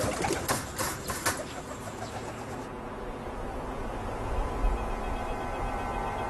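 Pigeons in a rooftop loft flap their wings in a few sharp bursts at the start, then soft cooing and low bird murmurs continue under steady background noise.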